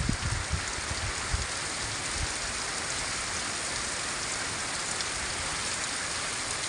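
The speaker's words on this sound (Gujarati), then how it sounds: "ચાલુ થઈ ગયો છે વરસાદ" Steady rain pouring down in Bhavabhi Khijadiya village, a dense continuous hiss of drops on surfaces with a few heavier patters near the start, no voices.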